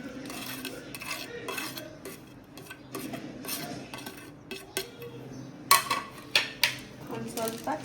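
A spoon stirs pani puri filling with water and chopped onion in a bowl, giving soft scraping and clinking that builds into several sharper knocks against the bowl, with faint talk nearby.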